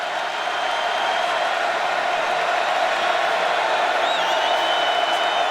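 Steady, roaring crowd noise from a college football stadium during a TCU versus Kansas game, a dense, unbroken wall of sound with no distinct voices standing out.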